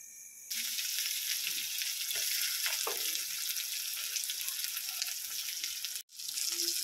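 Pork frying in oil in a pan gives a steady, dense sizzle that runs almost without pause, with a brief drop near the end, as if the pan is stirred or moved.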